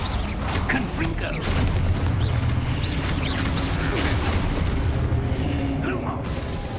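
A fiery Confringo blast spell cast during Hogwarts Legacy combat, rumbling booms and crackling bursts layered into a dense continuous roar, with voices calling out over the din.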